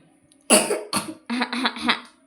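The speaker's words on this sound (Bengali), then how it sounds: "কাশি হচ্ছে," A child coughs three or four times in quick, harsh bursts, close up, with quiet between the fits.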